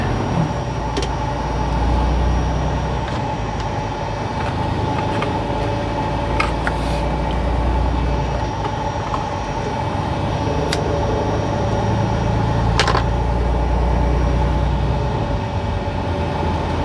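A truck drives along a road in South Carolina with a steady low engine and tire rumble, and brief clicks and squeaks from the cab rise above it now and then. It is continuous and close, with no one talking.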